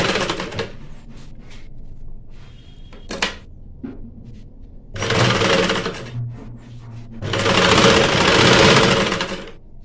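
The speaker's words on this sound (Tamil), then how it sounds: "ஸ்டிச் பண்ண ஸ்டார்ட் பண்ண போகிறோம்" A sewing machine stitches a blouse side seam in short bursts of fast, rattling mechanical stitching, separated by pauses filled with handling and clicking of the fabric and machine, with the longest run near the end.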